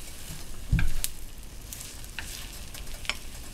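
A rolled Japanese tamago omelette sizzles in a frying pan with a steady, close hiss, broken by a soft thump as it is shifted and a few light scraping clicks.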